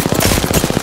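Rapid automatic gunfire in Apex Legends, a loud burst of roughly a dozen evenly spaced shots fired close by in under a second, with no voices over it.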